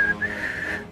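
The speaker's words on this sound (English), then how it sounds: "She starts whistling." A person whistles a short, steady high-pitched tone, briefly wavering, close and clear with no other sounds.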